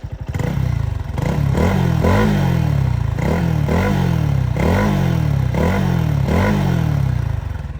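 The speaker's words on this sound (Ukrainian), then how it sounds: "Давайте послухаємо вехлоп для початку." A Lifan SR 220 motorcycle's exhaust roars loud and close as the engine is revved repeatedly, with a rhythmic series of rising and falling throttle blips holding steadily over idle.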